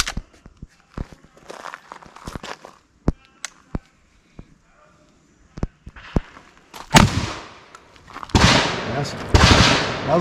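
Shotgun blasts of buckshot from a Beretta 1301 Tactical LE or IWI Tavor TS-12, a few sharp reports at first, then a loud cluster of rapid shots near the end, close and echoing outdoors.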